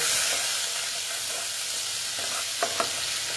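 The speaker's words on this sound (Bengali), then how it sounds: "তারপরে দিচ্ছি আমি এখানে হলুদ দিয়ে এটাকে আমি ভালো মতো ভেজে নেব" Onion and garlic frying in a pan with salt and turmeric, a steady close sizzle and hiss throughout with a couple of faint clicks near the end.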